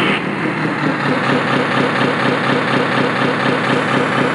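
A Bruder CAT D11 toy bulldozer's simulated engine runs steadily, a loud continuous idling rumble with a buzzy vibrating texture throughout.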